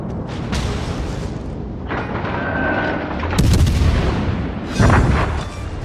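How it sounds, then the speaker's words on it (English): A destroyer blows up in World of Warships Legends naval combat, heavy booming blasts and rumbling explosions stacking loudly over several seconds, with no talk. "Enemy destroyer blown up."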